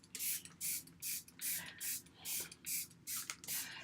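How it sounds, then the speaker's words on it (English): A handheld spray bottle mists water onto hair in quick, regular hissing bursts, about eight pumps in a row, close and fairly soft. "I just kind of spray around my hair, separating it as I go to make sure I get everything a little bit wet."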